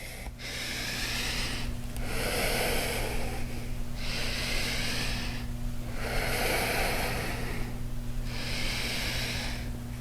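Strong rhythmic breaths during yoga tiger dog pulses, a few seconds of forceful hissing inhale and exhale repeated in steady cycles, close and loud over a low steady hum.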